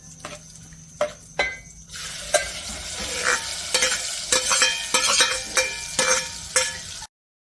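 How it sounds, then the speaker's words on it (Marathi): A mixture poured into a sizzling chili-powder tempering for a rustic egg curry: a few sharp utensil clicks, then a sudden surge of frying sizzle with repeated stirring scrapes before it cuts off abruptly. "आता आपण हे मिश्रण ओतणार आहे।"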